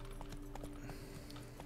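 Horse hooves clip-clop steadily in The Witcher 3, a regular series of light, hollow hoof strikes over a constant game background hum.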